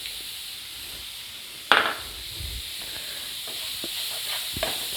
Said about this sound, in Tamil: இந்த எண்ணெயிலேயே ஆனியன் நல்லா வதங்கணுங்க.